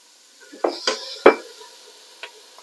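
Chopped celery and carrot go into a pan of onion for a classic lasagna. A few distinct clattering drops and scrapes stand out against a quiet background, and a faint sizzle follows them.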